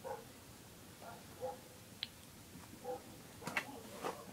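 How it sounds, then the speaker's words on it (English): Faint, distant dog barks come in scattered short bursts, a few single yaps spread over a few seconds with quiet background between. "these freaking mutts are annoying me and they keep barking"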